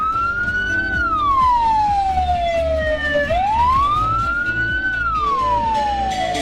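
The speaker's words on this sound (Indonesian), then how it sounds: "Bunyi yang keempat frekuensinya paling lambat dan unik yang berarti mobil ambulans sedang membawa jenazah." Ambulance siren carrying a body on an Indonesian road, a slow wailing tone rising and falling in two long sweeps, loud and close over steady traffic rumble.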